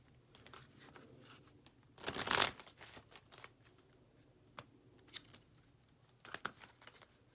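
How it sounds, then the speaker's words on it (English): An oracle card deck is shuffled in one loud, brief riffle, followed by quieter taps and card handling as a card is pulled, close up with no talking. "Okay, I'm pulling an Oracle card."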